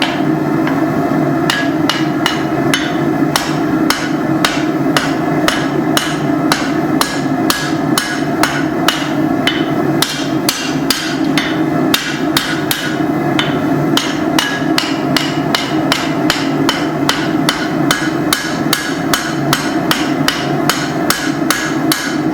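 Cross peen hammer forging a steel machete blade, a long series of sharp, evenly paced metallic strikes ringing close and loud, with a steady forge roar beneath and no talk.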